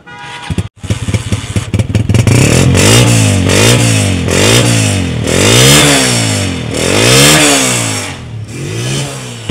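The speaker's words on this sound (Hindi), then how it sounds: "बाइक का साउंड, बाइक अच्छे साउंड प्रोड्यूस कर रही है" A Honda motorcycle engine starts and runs close by, revving up and down repeatedly in rising and falling surges, loud throughout.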